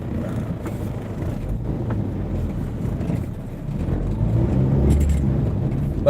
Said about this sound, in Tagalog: May truck pa ng tubig.